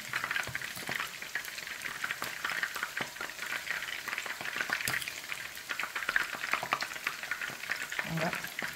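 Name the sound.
stirring jollof rice in a pot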